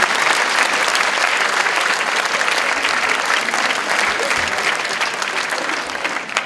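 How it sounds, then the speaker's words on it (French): Applause from a student audience at a stage hypnotist show at an engineering school, a loud, dense and sustained wash of clapping that thins slightly toward the end. "On peut applaudir quand même avec les journalistes."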